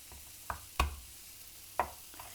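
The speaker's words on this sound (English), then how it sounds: "the easiest way to peel it is just give it a good bash with the side of your knife" A garlic clove bashed with the flat side of a knife on a board: a few sharp, dull thuds, one heavier whack among them, close and alone over a faint kitchen background.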